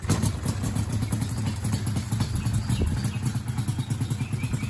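A cold two-stroke Yamaha Banshee ATV engine runs after a kick start, with a loud, close, rapid rhythmic putter and clatter throughout.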